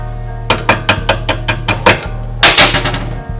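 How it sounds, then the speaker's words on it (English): Bolts and parts being fastened into the rear engine mount of a TrailMaster MB200 minibike, a series of sharp metallic knocks and clanks in quick succession, close and loud, with a heavier cluster of rattling impacts near the end. "We are going to bolt this into the two rear engine bolts."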